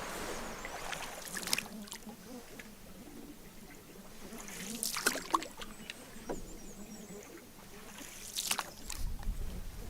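A canoe paddled back across calm water, with soft splashes and strokes recurring every few seconds over a quiet, gently rippling background, close by and faint.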